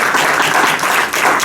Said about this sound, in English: I'd like to really actually give a round of applause for that.